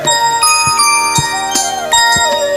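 A small bell rings repeatedly in quick, bright strikes, loud and close, with several chimes overlapping and ringing out within a few seconds.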